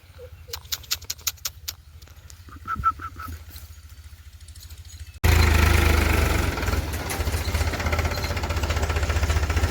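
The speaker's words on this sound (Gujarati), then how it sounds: "સામે પહોંચ્યું ટ્રેક્ટર" A farm tractor in a field during pigeon pea sowing: faint clicking at first, then its engine comes in close and loud with a steady, rough, knocking idle that continues to the end.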